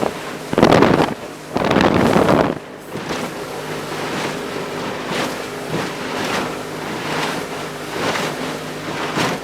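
Wind buffets the microphone aboard an Arrowflash 15 sailboat at sea in about 13 knots of breeze, loud rushing gusts in the first few seconds, then a softer, steady blustery roar with periodic surges.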